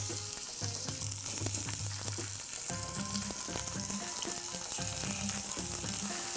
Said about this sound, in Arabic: طبعا الطاسه معانا لازم تكون سخنه قوي عشان انزل عليها بالعكوه